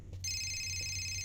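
Phone ringing from Fahrenheit: Indigo Prophecy, a continuous bright electronic ring that sets in almost immediately and sustains clearly above a low droning hum.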